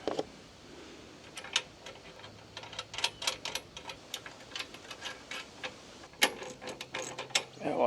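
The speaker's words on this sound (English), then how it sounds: "I've forgotten that this wrench is on his last leg. It's got a lot of slop in it." A worn, sloppy ratchet wrench clicks in quick irregular runs while assembling a tiller, close and moderately loud with faint background noise.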